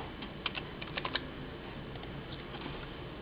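Quick, light keystrokes on a computer keyboard tap out a short burst of typing, close and fairly quiet over a steady background hiss, with no talk.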